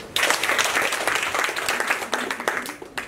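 Steady applause from a group of students in a chemistry class, dense clapping that carries on for a few seconds with a brief voice mixed in.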